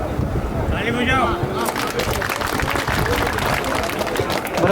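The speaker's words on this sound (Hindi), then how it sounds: "आप तालियां बजा करके उनका स्वागत करें।" A crowd at a public welcoming event claps to greet a guest, producing sustained dense applause through most of the clip, with a voice speaking over the start.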